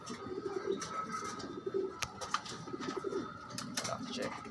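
Pigeons coo softly in a low, rolling murmur, scattered with faint clicks and rustles, while someone talks faintly in the background.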